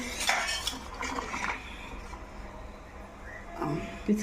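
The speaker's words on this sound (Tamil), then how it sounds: "கொஞ்சம் ஏலக்காய் போட்டு நல்லா கலக்கிட்டு" Bread halwa with cardamom stirred in a pan, with clinking and scraping of a spoon against metal, loudest at the start and near the end, over a quiet background with no talk.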